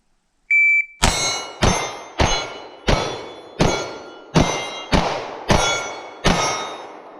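A customized CZ Shadow 2 race pistol fires a rapid string of about nine shots at steel targets, each sharp bang followed by a ringing metallic clang, evenly spaced and loud, starting after a short electronic timer beep.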